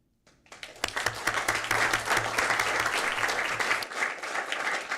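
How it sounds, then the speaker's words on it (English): An audience at a board of education meeting bursts into steady applause for a student after a brief quiet start, a dense, even clapping that holds to the end with no talk over it. "And you get to clap one more time for Avery."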